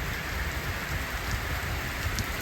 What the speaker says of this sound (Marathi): ह्या वर्षातला सगळ्यात सुरुवातीचा पाऊस पहिला पाऊस चांगला आला आहे